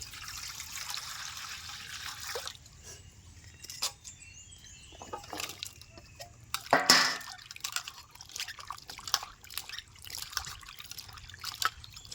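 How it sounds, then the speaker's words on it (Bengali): Cut vegetables are rinsed in water, with soft trickling, dripping and splashing that come in brief bursts and pauses, faint and close, including one louder splash near the middle. "সবজি আমি কেটে নিয়েছি এখন আমি ভালো করে ধুয়ে নেব"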